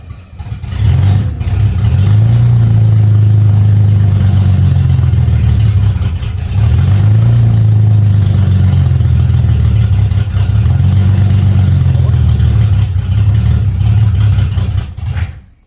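A 1970 Mercedes-Benz 250 engine runs steadily up close, a loud low hum with slight surges in speed and no talking.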